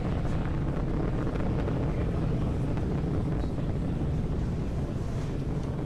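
A SpaceX Falcon 9 rocket ascends during a Starlink launch, its engines a loud, steady, broadband roar with constant rumbling and crackle, unbroken for several seconds.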